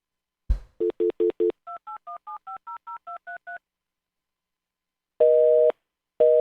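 A telephone number is dialed as a burst of clicks and a run of distinct DTMF keypad tones, followed after a pause by a repeating busy signal, all clear and close with no talking.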